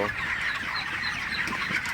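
Broiler chickens cluck steadily and continuously in the morning, a dense flock sound filling the whole stretch with no talking.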